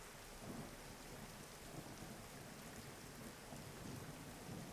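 Steady rain falling at night with rumbling thunder, a dense continuous hiss and low rolling rumble heard faintly as a soft background with no voices.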